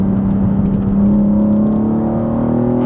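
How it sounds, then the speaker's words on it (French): A BMW M3 CS G80 with a titanium exhaust drones steadily from inside the car, a loud sustained engine tone rising slowly in pitch as it pulls. "on entend effectivement beaucoup plus cet échappement titane"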